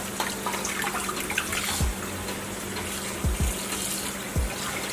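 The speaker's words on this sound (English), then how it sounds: "I'm going to run fresh water on our fish once" Tap water running in a kitchen sink over a cleaned red snapper, a steady close splashing stream with a few soft low thumps as the fish is handled.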